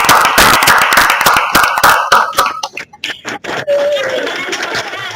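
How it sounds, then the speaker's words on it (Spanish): A small audience of schoolchildren and teachers on a videoconference between two schools gives a short burst of clapping that thins out into scattered claps, with some chuckling and voices mixed in. "recibir un aplauso de aquí pequeño"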